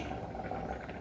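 Fish curry with tomato and green chillies boiling in a pot, a dense continuous bubbling rumble heard close up and fairly loud throughout, no voices.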